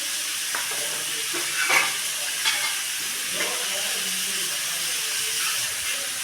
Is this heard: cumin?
yes